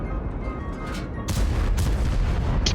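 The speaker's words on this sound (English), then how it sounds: "Extra shot to make sure he's dead." A tank cannon fires in a video game with an autoloader, a loud booming shot that lands partway through amid a steady rumble of battle, followed by another sharp blast near the end.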